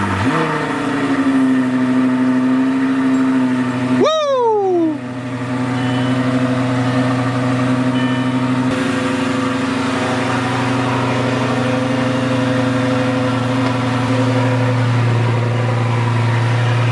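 A Lamborghini engine cranks and catches with a sharp rising whine, then settles into a loud, steady, close idle that drones on unchanged.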